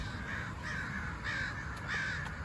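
Several crows caw repeatedly outdoors in Portland, Oregon, under wildfire-smoke skies, with four harsh calls spaced at a steady rhythm over low rumbling background noise, fairly close and loud.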